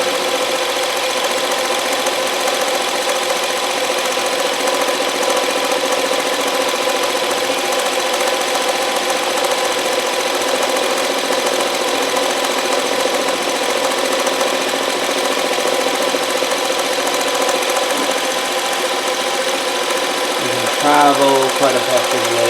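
A Consew CN2053R-1A industrial sewing machine stitches free motion embroidery, its motor running in a steady, continuous whir with a rhythmic mechanical chatter throughout, close and fairly loud, with a brief clatter near the end.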